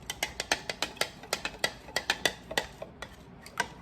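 Panzanella salad, with bread, is tossed in a bowl, producing quick, regular clicks and light taps of utensils against the bowl, close and fairly crisp, with no talking.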